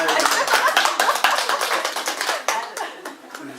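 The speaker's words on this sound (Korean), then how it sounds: "박수 한번 칩시다" Listeners at a Buddhist dharma talk clap together, a close, loud burst of brisk hand claps that gradually thins out over a few seconds.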